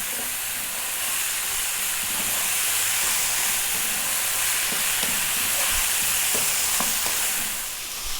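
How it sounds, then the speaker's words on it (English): Mushroom fried rice fries in a pan on high heat, a steady loud sizzle and hiss with occasional scraping and stirring taps, no talk. "We're going to fry this now for 4 to 5 minutes."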